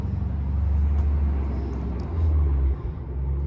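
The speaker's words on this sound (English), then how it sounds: "Wait until my neighbor's Cadillac passes by." A stock Cadillac passing by on a neighborhood street, a steady low rumble that swells and fades as it goes past.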